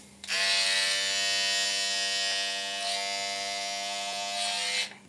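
An electric trimmer trimming a mustache gives a steady, close, high buzzing whine that starts abruptly, holds level for about four and a half seconds with slight shifts in pitch as it moves over the hair, then cuts off.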